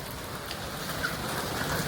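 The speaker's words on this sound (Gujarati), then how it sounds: "હવે વરસાદ ધીરે ધીરે ધીરો પડી ગયો છે" Light rain, the first of the season, hisses softly and continuously along a highway as it eases off, a gentle even wash with no voices.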